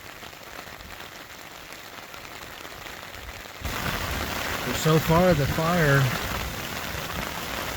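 Heavy rain pours steadily onto a campsite during Christmas camping, a constant dense patter throughout; partway through it grows louder and a nearby voice speaks over it.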